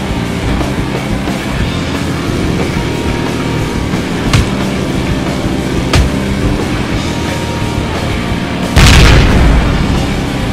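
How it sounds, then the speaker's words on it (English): Explosion sound effect from the video game Ride to Hell: a loud booming burst near the end, with a couple of brief sharp pops earlier over a steady rumbling game background. "triggering the same damn explosion sound every fucking time."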